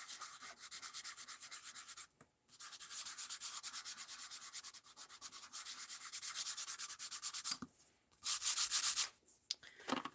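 A tissue is rubbed over heat-embossed powder on a stamped card, making quick rhythmic papery scrubbing strokes in several bursts with brief pauses, faint and close.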